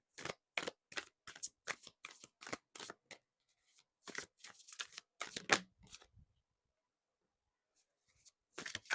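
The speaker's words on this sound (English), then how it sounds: "Let's get you some Threads of Karma cards, a little bit of advice for the Threads of Karma deck." Oracle cards from a Threads of Karma deck riffle and slap together in short crisp bursts, a rapid series of close shuffles with brief pauses, then a quiet gap before a final flurry.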